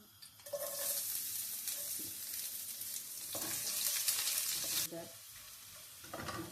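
Fenugreek seeds and garlic fry in olive oil in a heated pan, a loud, dense sizzle that flares up after a quiet start, holds steady and then drops back near the end, close and without speech.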